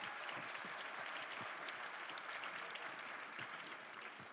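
An audience at a bayside brunch fundraiser applauds, a steady wash of many hands clapping at once that holds evenly throughout and eases slightly near the end, heard from within the room.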